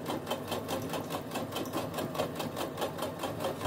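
Sewing machine topstitching along the edge of a weekend bag, a steady close whirring hum of rapid stitches running continuously with no pauses.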